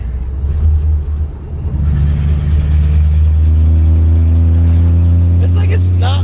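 A 1964 Ford Galaxie 500 V8 running through open headers, a deep steady rumble that climbs into a sustained revving drone, close and fairly loud, with voices briefly over it near the end.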